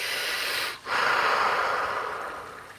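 A voice imitates heavy breathing with a long, loud, close rasping exhale, a brief catch, then another drawn-out breathy huff.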